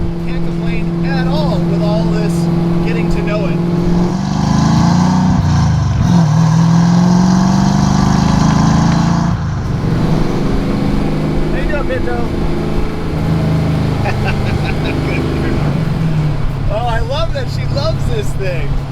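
A 1973 Ford Mustang restomod with Terminator EFI pulls away and accelerates around town, its loud engine droning steadily up close inside the cabin while a person talks over it throughout.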